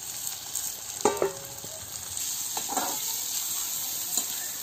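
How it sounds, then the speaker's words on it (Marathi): Cluster beans fry in a pan over a village-style wood-fired stove, giving a steady, close sizzle with a few clinks and stirring scrapes scattered through, no talking. "आता इथे फ्राय होत आहे ना."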